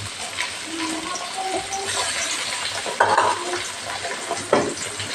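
Tomatoes fry with sautéed onions in a pan, giving a steady close sizzle with spoon stirring and scraping, two sharper clatters near the end, and no voices.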